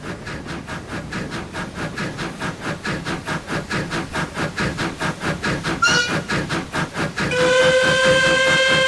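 Caledonian Railway 782 class steam locomotive in Train Simulator chuffs in a steady rhythmic beat, then a steam whistle sounds briefly and a longer sustained whistle blows near the end, loud and close.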